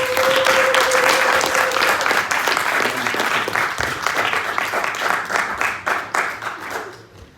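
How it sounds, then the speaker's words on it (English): After a senator's address at the ALJA General Assembly, a large audience gives loud sustained applause, a thick roar of clapping that gradually thins and tapers to quiet at the end, with a faint tone in the background early on. "I want us to give her another great round of applause"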